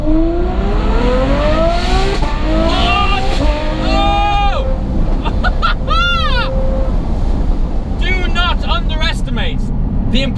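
A Ferrari F12 or Novitec N Largo V12 engine revving loudly from inside the cabin, with rising and falling pitch sweeps as it accelerates and downshifts, under a speaking voice and a constant road roar.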